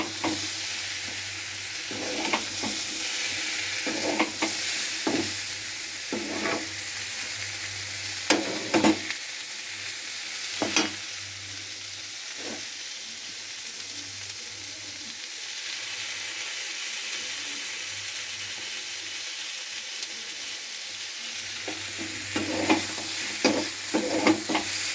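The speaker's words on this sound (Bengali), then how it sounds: "বন্ধুরা দেখো আমার শিম ভাজাটা হয়ে এসছে" Flat beans (shim) sizzle in oil in a frying pan with a continuous hiss, broken by intermittent scraping clicks of stirring that cluster at the start and end.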